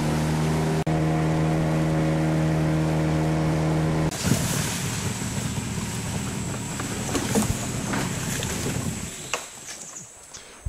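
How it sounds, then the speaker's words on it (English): Motorized canoe travelling on a river to a research camp on Siberut Island, Indonesia: a steady droning outboard engine hum with tonal harmonics, then a shift to rushing water, splashes and wind noise as the boat moves along. "Into another canoe, on another river, on another journey, this time to the Pungut research camp."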